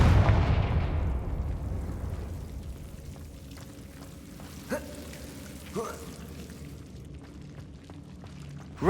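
Confringo spell explosions go off in Hogwarts Legacy: a big booming blast opens and rumbles away into a long decay, followed by smaller cracking impacts and a sharp burst at the end.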